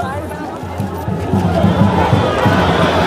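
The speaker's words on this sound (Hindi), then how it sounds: "बाकी भीड़ है, भगदड़ की तरह माहौल हो चला है" A dense, jostling crowd packs around a political roadshow in Patna, with a constant loud roar of chatter, shouting and movement that never lets up.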